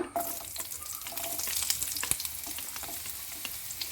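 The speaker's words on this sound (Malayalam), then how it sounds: "ഇനി ഒരു പാൻ അടുപ്പത്ത് വെച്ച് അതിലേക്ക് അല്പം വെളിച്ചെണ്ണ ഒഴിച്ചെടുക്കാം എണ്ണ നന്നായി ചൂടായി വരുമ്പോൾ നമുക്ക് ഇതിലേക്ക് സവോള" Onion frying in coconut oil in a pan makes a loud, continuous sizzle with crackling spits and the scrape of stirring, close up and without speech.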